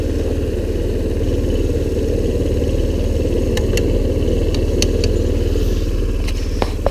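A 2016 TaoTao ATA150G ATV with a 150cc engine drones loud and steady while being ridden, with a constant close mechanical hum and a few light clatters near the end.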